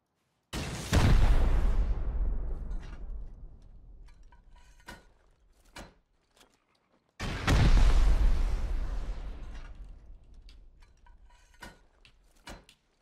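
Two heavy rocket explosions during a base raid in the video game Rust, each a loud booming blast followed by a long rumbling decay, spaced several seconds apart with faint clatter between.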